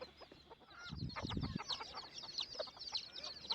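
Freshly released hens cluck and chatter outdoors at a faint distance, with a brief low rustle or thump near the start.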